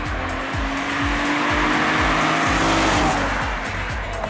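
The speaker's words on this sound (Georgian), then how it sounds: "ავიძრათ უკვე გავიდეთ ჩვენი ლოკაციიდან და განვიხილოთ როგორ მოძრაობს ეს მანქანა" A 2012 Chevrolet Camaro with the 3.6 engine pulls away hard, its tires squealing loudly over a steady, close engine roar with repeated rhythmic thumps underneath.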